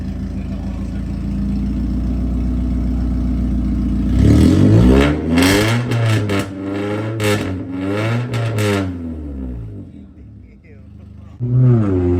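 Honda Civic engine through a full straight pipe exhaust, a steady loud idle drone that breaks into several sharp revs rising and falling, then settles, with a final blip at the end, close and loud.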